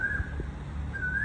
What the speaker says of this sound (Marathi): छान कोकिळेचा आवाज येतोय